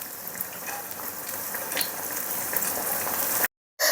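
Onion flower fritters deep-frying in hot oil make a dense, steady crackling sizzle up close, with faint stirring clinks; the sound cuts out briefly before returning at the end.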